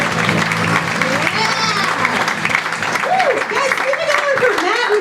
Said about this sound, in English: Everyone put your hands together for the very funny Brandie Posey